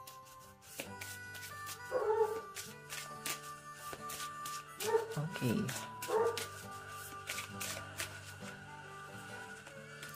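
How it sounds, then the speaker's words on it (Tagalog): Dogs barking nearby in short clustered bursts of yips and barks, with a few separate outbursts spread across the stretch while a person talks quietly throughout. "Pasensya na guys sa tahol ng mga aso."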